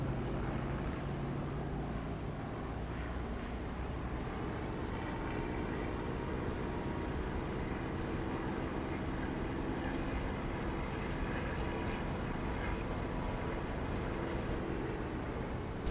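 An aircraft engine in a DCS or War Thunder flight simulator roars in a steady, loud, broadband drone that holds constant across the whole stretch, with no voices.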